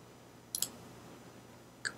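A computer mouse clicked twice in quick succession while modeling gears in FreeCAD, sharp faint clicks alone in a quiet room, followed by one more single click a moment later.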